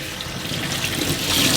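Tap water runs steadily while a vacuum cleaner filter is rinsed and squeezed under it, a continuous close splashing hiss that builds slightly toward the end.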